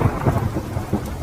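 Cartoon storm scene with steady heavy rain and low rumbling thunder rolling throughout a brief moment, loud and dense, with no voices.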